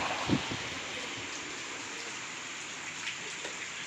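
Steady rain falls in a continuous broadband hiss in a village, with a few louder drops or taps near the start.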